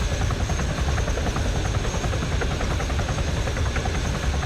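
A helicopter's engine and rotor in Arma 3 run as a loud, steady, close drone with a faint rhythmic blade chop and no speech, while the aircraft hovers to lift cargo on a rope.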